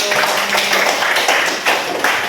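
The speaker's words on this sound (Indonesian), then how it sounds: "tepuk tangan untuk kelompok 1" A classroom audience claps for a presenting student group in a short burst of applause, dense and fairly close, with uneven rises in the clapping.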